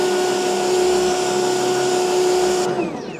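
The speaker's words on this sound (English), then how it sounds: "So this is what they call this foaming nozzle." Steady loud motorized drone from an EGO cordless lawn sprayer pushing liquid through a foaming nozzle, running continuously with a bright tonal hum before cutting off abruptly near the end.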